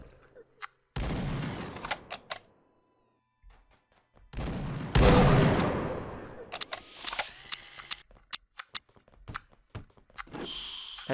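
A shotgun in Space Warrior, an FPS Creator game, fires a few loud separate blasts between stretches of silence, each followed by a ringing tail and scattered small clicks.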